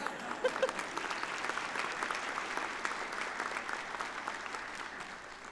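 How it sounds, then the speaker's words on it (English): Steady applause rises from a commencement audience at a university winter graduation ceremony, a soft, distant-sounding patter of many hands that holds evenly and tapers slightly at the end. "You can clap. That's fine."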